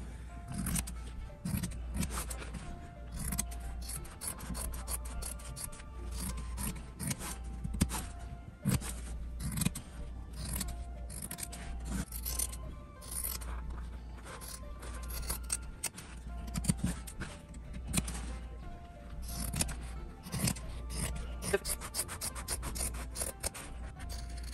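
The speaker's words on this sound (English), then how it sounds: "you're gonna cut around" Scissors cut steadily around fabric pieces for a crossbody phone bag, a continuous run of close rasping snips and rubbing over a low background hum.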